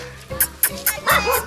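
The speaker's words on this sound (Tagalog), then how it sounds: "Ayun, ang daming aso." Several dogs bark and yip in quick, overlapping bursts, fairly close, with a whiny edge to some calls.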